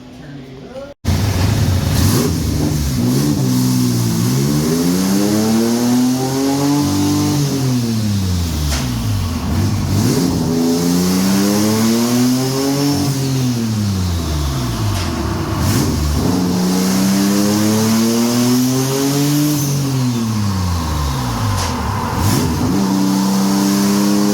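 A twin-turbo J35 engine revs hard on a dyno in repeated loud rising-and-falling pulls, climbing and dropping in pitch several times, with a voice speaking over the roar.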